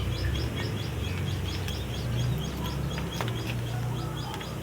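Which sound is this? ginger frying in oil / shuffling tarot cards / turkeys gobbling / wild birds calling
wild birds calling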